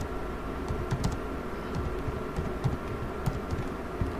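Typing on a computer keyboard: a steady patter of light key clicks with occasional louder strokes, close and continuous over a low room hum, with no voices.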